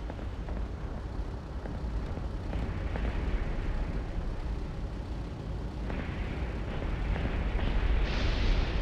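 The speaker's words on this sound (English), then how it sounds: "Here come the bombs." Bombs explode in the video game War Thunder as heavy, rumbling blasts roll beneath a continuous wash of aircraft noise, with a louder burst swelling near the end.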